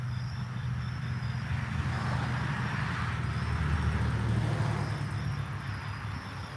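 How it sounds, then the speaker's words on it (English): Cars pass by on a nearby road, a steady low rumble of traffic that swells gradually and fades, heard moderately loud with no talking over it. "I'm gonna wait for these cars to pass by real quick"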